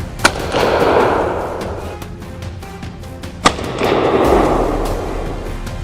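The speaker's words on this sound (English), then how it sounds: "A crisp shot rings out. One shot, one kill." A hunting rifle shot cracks out in a forest during a wild boar hunt, one sharp report followed later by a second loud crack, with rustling movement and outdoor ambience between them and no talk.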